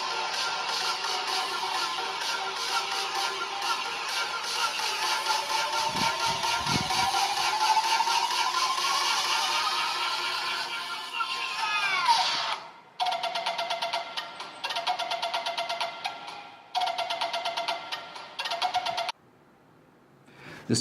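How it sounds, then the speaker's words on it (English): Built-in speakers of a cheap E Gate projector play music-like audio with steady tonal lines and a sweeping tone, fairly loud and close, then break into choppy segments with abrupt dropouts and a brief silence near the end. "In addition to it, it also comes with inbuilt speakers"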